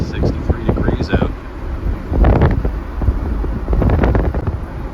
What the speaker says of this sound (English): the river's a little choppy, a little windy today